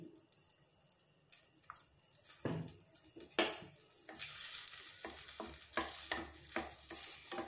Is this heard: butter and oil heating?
yes